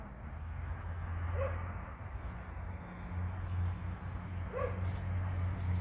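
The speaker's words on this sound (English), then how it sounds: "I'll see why they're barking." Two short dog barks sound at a distance, a few seconds apart, over a steady low hum.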